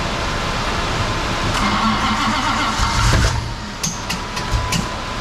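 A car engine with header wrap on a run stand, out of gas, is cranked while a big fan runs nearby. A loud, steady mechanical roar suddenly drops away partway through, followed by a few scattered knocks and clunks.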